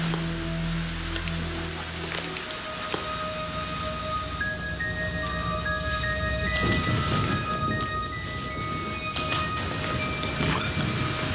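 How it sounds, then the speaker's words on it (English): Low, rolling thunder rumbles steadily with a broad, noisy wash that sounds like rain. No one speaks. "Was that thunder?"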